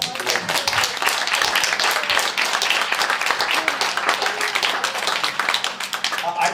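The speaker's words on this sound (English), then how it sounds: "So we need to give them a round of applause." Audience applause for the traveling press corps at a campaign event, a steady wash of clapping across the room with voices mixed in throughout.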